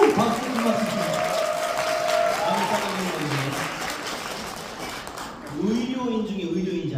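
Studio audience applause at a talk show about a nurse's stage 4 uterine cancer recovery, rising as a broad clapping wash mixed with continuous speech and voices throughout.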